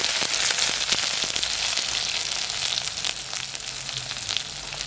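Onions hit hot oil with mustard and fennel seeds in a pan, giving a dense, steady sizzle dotted with sharp crackles and pops, close up with no voices.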